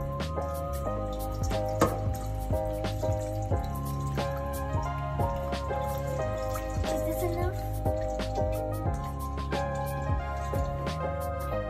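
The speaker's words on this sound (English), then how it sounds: "Fill up some water." Water runs and splashes into a cooking pot nearby while making carbonara, with drips and trickling sounds continuing steadily alongside clinking.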